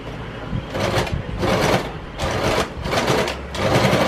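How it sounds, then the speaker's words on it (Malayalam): A sewing machine stitches a churidar-style salwar sleeve in bursts, its motor whirring in several loud runs separated by short pauses. "മാർക്ക് ചെയ്ത ഈ പോർഷനിലൂടെ നമുക്ക് സ്റ്റിച്ച് ചെയ്യാം."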